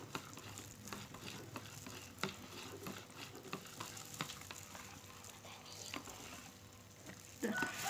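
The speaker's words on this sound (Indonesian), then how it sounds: "Hati-hati dalam mengaduk, jangan sampai menciprat kena tangan ya" A hot mixture is stirred in a container, giving continuous sizzling, bubbling crackle with scattered sharp clicks and spatters, fairly close and steady throughout with no talking.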